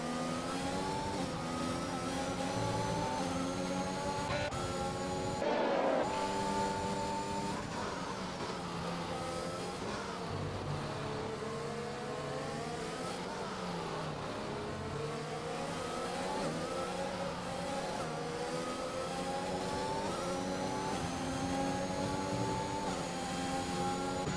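Formula 1 cars racing in F1 2021 on Xbox at the French round, a steady high-pitched engine whine rising and falling as the cars shift and accelerate, loud and continuous throughout.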